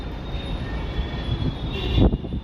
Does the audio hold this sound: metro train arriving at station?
yes